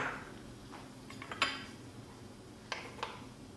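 A spoon stirs softening margarine in a kitchen pan, giving a few light metallic clinks and scrapes against a low background hiss, without talk.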